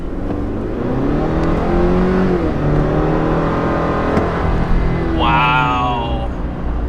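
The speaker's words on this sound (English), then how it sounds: "It sounds like a 4-cylinder though. It does not sound good. You have some turbo noise," A 2022 Chevy Silverado Custom pickup with a turbocharged 4-cylinder engine accelerates hard, its engine note rising steadily for several seconds before a higher turbo whine and shifting tone take over near the end, loud and continuous.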